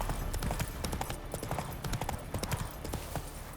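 Horse hooves clip-clop steadily at a riding gait in The Witcher 3, a fast, even rhythm of close hoofbeats that runs throughout, with a little speech faintly in the background.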